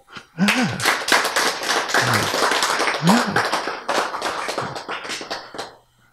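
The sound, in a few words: audience clapping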